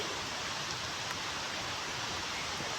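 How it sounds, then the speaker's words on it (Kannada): Heavy rain falls steadily outside a house, a dense, even wash of hiss with no breaks, fairly close and alone without any voices. "ಮಳೆ ಬಂತು ಜೋರು ಬಂತು"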